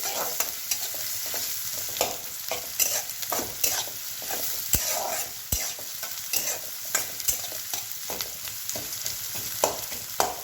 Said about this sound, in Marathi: हिरवी मिरची कांदा चांगलं परतून घ्यायचंय